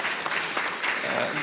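Audience at a public-private business forum giving a round of applause, steady dense clapping filling the hall for a brief stretch.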